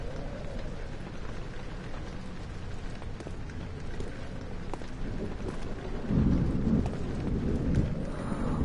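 Steady rain falls with a low rumble of thunder building toward the end in the video game Amnesia, a continuous storm ambience without talk.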